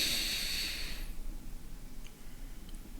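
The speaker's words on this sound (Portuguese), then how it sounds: "e faça uma respiração" A deep breath with arms stretched overhead, heard as a strong airy hiss of inhalation for about a second, then quieter, softer breathing sounds.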